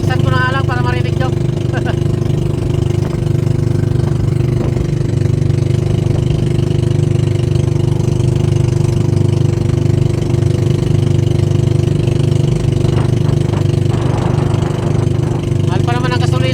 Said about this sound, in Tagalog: Nagapalya kasi makina ko